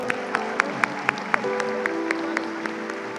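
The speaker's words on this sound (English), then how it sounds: "Round of applause for our baccalaureate graduates, ladies and gentlemen." At a college commencement ceremony, the audience for baccalaureate graduates gives a thin, scattered round of clapping with individual claps spaced apart, over a steady sustained background tone.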